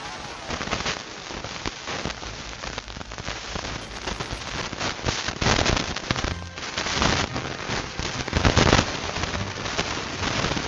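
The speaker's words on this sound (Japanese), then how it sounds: "花火かな？" Fireworks in the video game Dragon Quest VI crackle and pop in a dense, continuous burst of sharp bangs and sizzle, loud and unbroken for the whole stretch.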